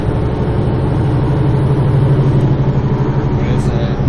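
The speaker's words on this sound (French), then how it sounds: "C'est un moteur qui casse les oreilles ici." Inside a Van Hool NewA330 city bus, the engine runs with a loud, steady low drone and rumble throughout, while people talk beneath the noise.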